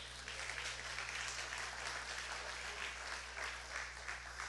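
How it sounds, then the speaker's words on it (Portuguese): Church congregation applauding during a worship service, a steady broad wash of many hands clapping at a distance, fairly faint and even throughout with no voices on top. "Pode aplaudir o Senhor?"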